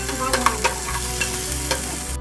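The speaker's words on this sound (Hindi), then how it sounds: "अब डालते हैं प्याज एक बार चम्मच चला लेते हैं इसमें थोड़ा सा पकने देते हैं इसको।" A spoon stirs potatoes and onions cooking in a pan, a few scraping strokes over a steady, close frying sizzle that cuts off abruptly at the end.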